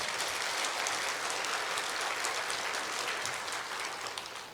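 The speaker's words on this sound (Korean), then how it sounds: "박수!" Congregation at a Korean Sunday church sermon applauds, a broad continuous wash of many hands clapping heard from a distance, steady throughout and tapering slightly at the end.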